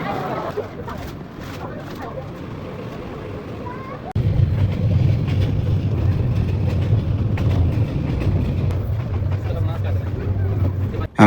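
Train carriage noise from inside an air-conditioned coach: a steady rumble and rolling hum that swells louder partway through, with voices talking over it throughout.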